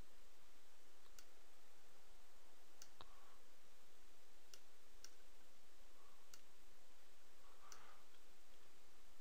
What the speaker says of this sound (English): I'm basically clicking on this little play button right here.